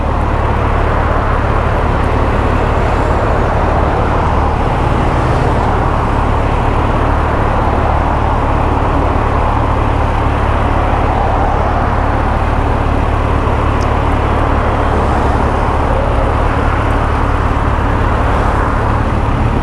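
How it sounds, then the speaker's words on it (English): Road traffic on a route ridden home from work, a loud continuous roar of passing vehicles and engine rumble with a constant low hum throughout, no voices. "A lot of traffic again."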